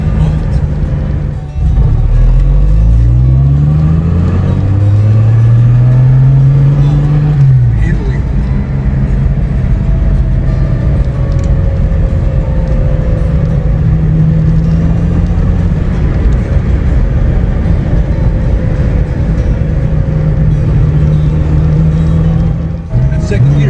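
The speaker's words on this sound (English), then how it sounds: "That's second gear, Steph." A vintage car engine revs and pulls up through the gears in Kalnica, Slovakia, with rising pitch sweeps between shifts, heard loud from inside the car under a steady road roar, with people talking over it.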